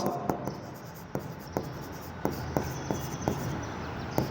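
Handwriting on paper during an accounting lesson, with a pen making quick scratchy strokes and tapping ticks at an irregular rhythm, close and clear over a faint background hiss.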